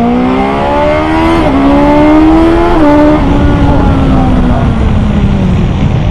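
A 2021 BMW S 1000 XR motorcycle engine, built from a race engine, revs hard and close, its pitch climbing through several gear changes before easing into a steady drone.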